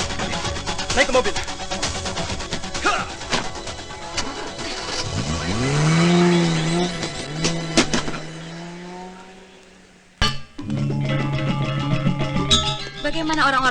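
A car revs hard and pulls away during a chase scene in an Indonesian action thriller, with rising engine whine and a squealing sweep, then a brief lull and a sharp jolt before the engine roars again, raised voices shouting over it.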